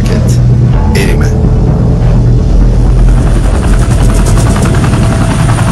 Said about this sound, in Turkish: Havadan su boşaltmak için yangın söndürme helikopterleri çağrılıyor.